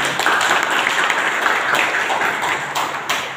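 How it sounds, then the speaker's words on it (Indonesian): Students in a classroom clap for a classmate after a Quran recitation, a dense burst of applause that holds steady for about three seconds and then starts to thin out. "Tepuk tangan semuanya"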